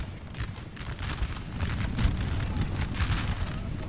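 Howitzer artillery in the Napoleonic Total War 3 game fires in dense, overlapping booms and crackling volleys, a continuous distant battle barrage with no clear pauses.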